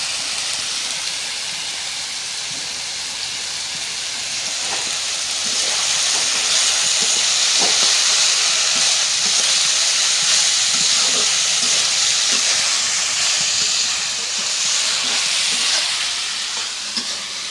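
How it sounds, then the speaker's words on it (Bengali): Chopped potato and onion fry together in a pan, a steady close hissing sizzle that swells louder midway and holds, with faint stirring scrapes underneath. "আলু পেঁয়াজ একসাথে ভাজা নিই"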